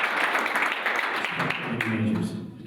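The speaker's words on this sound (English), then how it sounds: "we forgot to clap for Carter." Live audience clapping for a guest at a music publishing panel, a broad burst of applause with a voice talking over it, fading toward the end.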